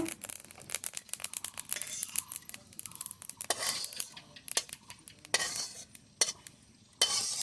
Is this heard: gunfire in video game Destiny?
no